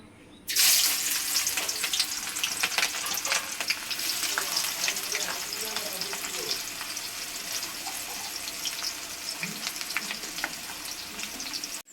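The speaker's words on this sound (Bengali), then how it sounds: "বন্ধুরা, আমার তেলটা গরম হয়ে গেছে এবং কুচে রাখা পেঁয়াজগুলো আমি দিয়ে দেবো" Chopped onions drop into hot oil and burst into a loud, close sizzle that stays dense and crackling throughout, with light stirring scrapes.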